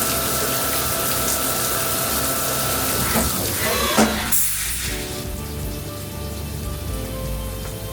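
A machine runs a program cutting a wave spiral pattern into a salt bowl. It gives a steady whirring, watery hum with a brief louder clunk midway and keeps going on its own, with no voices.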